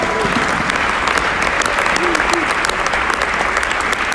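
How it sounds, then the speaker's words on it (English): Congregation clapping hands in praise at a church service, dense sustained applause filling the space for the whole stretch, with voices faintly mixed in underneath. "Give the Lord a hand clap of praise."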